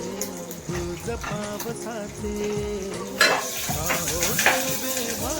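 Mustard seeds and cumin spluttering in hot oil for Maharashtrian buttermilk kadhi, close crackling sizzle with utensil clinks and a brief burst of popping midway, alone without talk.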